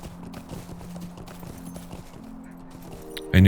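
Horse hooves clip-clop in a steady, fairly close rhythm while riding in the Lord of the Rings Online video game, a low humming tone running beneath them before a loud burst at the very end.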